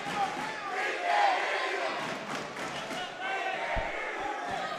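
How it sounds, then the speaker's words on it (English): Fired-up crowd at a high school varsity boys wrestling match between Passaic County Tech and Clifton, a steady loud roar of cheering and shouting voices filling the gym throughout, with a few thuds near the end. "Definitely some fiery crowds tonight"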